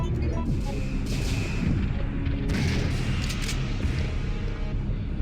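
Shotgun fire in Resident Evil 3 on PS1, heavy booming blasts layered over constant loud game noise and rumble, with bright crashing bursts in the middle.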